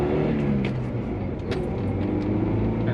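A Geo Tracker merging onto a highway, with a continuous loud engine and road rumble from inside the cabin and small rattles and clicks over the drone.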